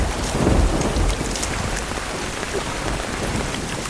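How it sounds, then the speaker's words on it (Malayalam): Heavy rain pouring steadily on surfaces by the Chaliyar river, a dense loud hiss with a low rumble of thunder near the start, no speech. "നല്ല മഴയുള്ള ദിവസം."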